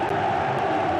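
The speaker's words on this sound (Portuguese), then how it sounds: "E a torcida, a fiel torcida," The Corinthians faithful cheer inside the stadium during a 2015 Brasileirão match against Fluminense, a dense, steady roar of crowd noise filling the space.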